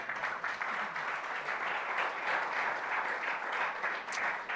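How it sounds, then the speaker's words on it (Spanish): A church congregation applauds steadily throughout, a dense, even wash of many hands clapping with no break, loud and close. "Denle un aplauso al Señor."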